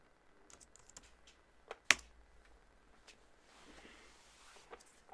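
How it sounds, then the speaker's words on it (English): Someone types on a computer keyboard, giving quiet, sparse key taps with one sharper click standing out, in an otherwise hushed room. "We're gonna type in CCM"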